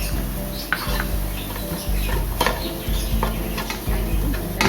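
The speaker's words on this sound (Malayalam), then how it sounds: "എല്ലാം കൂടി നന്നായിട്ടൊന്ന് യോജിപ്പിച്ചെടുക്കാം" A spoon scrapes and stirs paneer fried rice with pepper powder in a pan, giving repeated clinks and scrapes over a soft sizzle.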